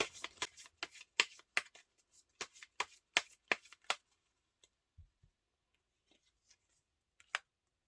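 Tarot cards are shuffled in a quick run of crisp riffles and snaps. A quieter pause follows with a few soft taps and one last flick as cards are drawn.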